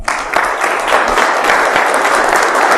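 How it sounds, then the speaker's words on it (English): Audience applause at a BSides Philly 2017 security conference talk, steady dense clapping from a full room welcoming a speaker, loud and close, no talk over it. "please give a warm round of applause for Danny Ikoski"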